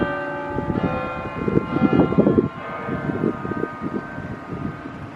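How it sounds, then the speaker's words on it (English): A church bell strikes twice to mark two o'clock, its long ringing tones carrying over a steady low outdoor rumble, with both strikes sounding full and close together. "Two chimes, 2 o'clock."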